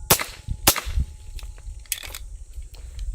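Suppressed Beretta M9A3 9mm pistol fired outdoors away from steel targets: two sharp muffled cracks close together, then a few fainter reports and clinks.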